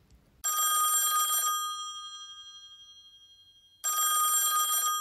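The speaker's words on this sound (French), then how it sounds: "Le téléphone de l'antichambre des huissiers se met alors à sonner." A telephone rings in an usher's antechamber, two loud bursts of electric bell ringing separated by a decaying pause, clear and close with no talk.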